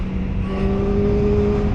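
Kawasaki Ninja 400RR motorcycle engine at speed, a steady high-revving whine with a rising tone under wind rush, heard from the rider's position.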